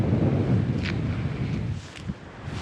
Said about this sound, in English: this wind's just whipping across like that